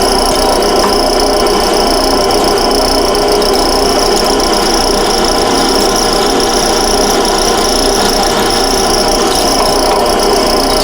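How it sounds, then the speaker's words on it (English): Drill press boring a hole through metal for a plug weld, a loud, steady, dense grinding whir that holds unbroken throughout with no voices. "Okay, now I'm ready to go over and drill a hole."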